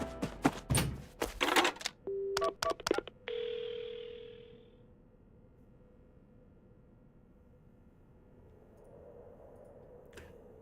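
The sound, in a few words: telephone call in video game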